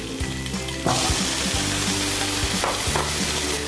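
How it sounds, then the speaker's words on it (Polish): Carrots hit hot fat with a loud sizzle that continues steadily, with clattering stirs and scrapes of a pan under the frying hiss. "rozgrzany tłuszcz, wrzucamy nasze marchewki"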